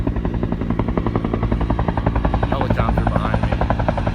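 Helicopter running nearby, a loud, steady rapid rotor thumping with a constant engine drone throughout, with a voice faintly mixed in.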